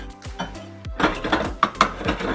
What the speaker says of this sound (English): Give that a quick stir with our spoon.